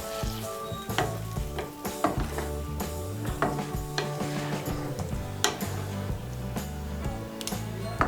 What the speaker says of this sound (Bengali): দুধটাকে ভালো করে মিশিয়ে নেব।